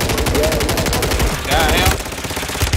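Rapid automatic gunfire in the video game Warzone 3, loud fast-repeating shots in dense bursts up close, with a brief voice-like sound mixed in.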